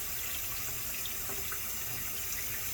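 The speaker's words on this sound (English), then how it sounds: "And turn this off. We're not wasting any more water." Steady stream of water running from an open tap into a sink, continuous and fairly close, with no talking over it.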